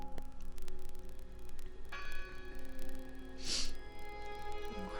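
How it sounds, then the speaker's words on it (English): A single bell rings out inside the horror adventure game Draugen, its long metallic tone sustaining over a dim, humming ambience, standing alone with no voices. "I heard the bell."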